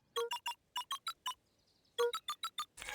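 Keypad beeps sound in the game Beacon Pines as letters are entered: two quick groups of short electronic tones in an even rhythm, clear and close, a faint tone between them and a brief noise burst at the end.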